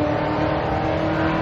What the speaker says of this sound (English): If I hear the cars in the background